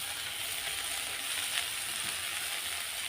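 Hearing the beans, eggplant and chopped greens frying in a pan, you get a dense, even sizzle. It stays loud and close throughout, without pause, under faint stirring.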